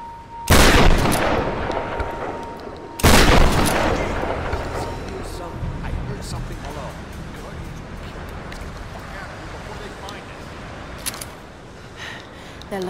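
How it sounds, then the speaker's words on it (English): Two heavy shotgun blasts boom in Tomb Raider Definitive Edition, the first a short burst and the second about two and a half seconds later, followed by long rumbling decay and ambient noise. "Shotgun."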